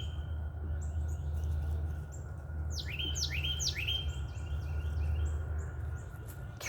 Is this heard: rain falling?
no